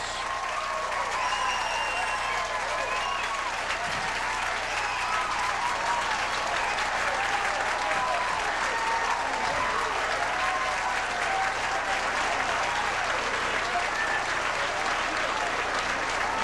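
A bowling alley crowd applauds and cheers a perfect 300 game at a senior pro bowling open, with loud, dense, sustained clapping throughout and voices mixed in.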